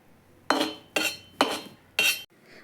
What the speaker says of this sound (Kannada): ಅದನ್ನು ಕುಕ್ಕರ್ಗೆ ಹಾಕಿ ಚೆನ್ನಾಗಿ ಫ್ರೈ ಮಾಡ್ಕೋತೀನಿ